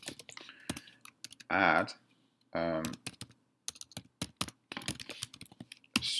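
Computer keyboard typing as a teacher enters student email addresses, bursts of quick clicking keystrokes with pauses, close and fairly quiet, with brief speech in between.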